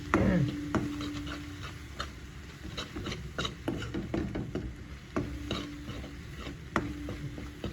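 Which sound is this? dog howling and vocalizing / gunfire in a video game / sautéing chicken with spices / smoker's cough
sautéing chicken with spices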